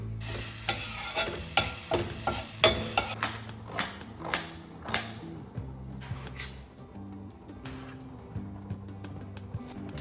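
Ginger garlic paste sizzles and fries in oil in a pan for a mutton sambar, with a steady crackle, repeated stirring scrapes and clinks of a spoon against the pan.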